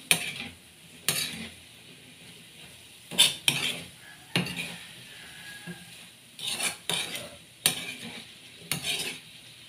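Mixed vegetables are stirred in a pan with a spoon, giving repeated clattering scrapes against the metal in irregular bursts over a quiet background, close and fairly clear.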